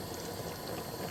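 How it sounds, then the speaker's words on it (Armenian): A carrot and pepper preserve simmering under a lid in a pot, giving a dense, steady bubbling hiss that stays even throughout, close and moderately quiet. "Լավ խառնում ենք, կափարիչով փակում եւ թողնում ենք, որ շարունակի եփվել։"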